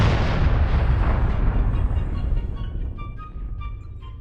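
Heavy weapons fire in MechWarrior Online: a loud, sustained booming burst that rolls and decays into a long rumbling tail, with no voices over it.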